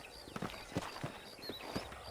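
Horse hooves clip-clopping on a dirt trail in the Western video game Red Dead Redemption, set near Armadillo: a loose, irregular series of faint, soft hoof thuds at a moderate walking pace under steady ambient background noise.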